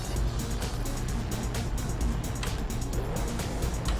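Engine sound from a custom-built car in the video game Trailmakers, a simple build with wishbone suspension, rear exhaust and spokeless wheels. It gives a low, continuous motor drone with some rumbling texture, fairly quiet and steady throughout, with no voices.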